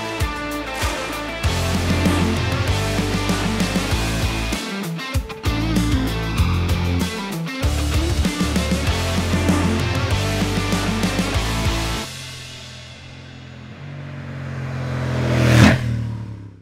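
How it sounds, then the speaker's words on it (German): A Honda Africa Twin Adventure Sports 1100 parallel-twin motorcycle from 2024 runs with a dull, deep exhaust note, steady and close for most of the stretch, then easing off before a short swelling pass. "das Geschiebe von einem 1100er Parallel-Twin, das unterstrichen wird von einem dumpfen, maskulinen, aber nie laut oder störenden Auspuffgeräusch"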